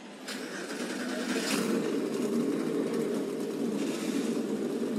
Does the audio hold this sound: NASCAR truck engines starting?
yes